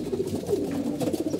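Pigeons coo in a loft, several overlapping soft, rolling calls repeating continuously and close by.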